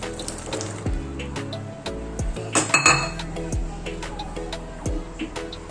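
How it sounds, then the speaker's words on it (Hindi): Dry black-eyed peas clatter and patter into a metal pressure cooker in quick bursts, with clinks of metal against metal and a louder rattling pour near the middle. "अभी मैं कुकर में ये पूरी चौली डाल दूंगी।"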